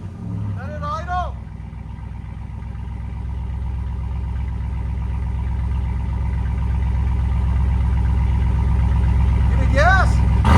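A RAM 2500 truck with a 6.4L V8 idles close by in a deep, steady, rumbling burble with a fast even pulse, gradually getting a little louder, while people talk briefly at the start and end.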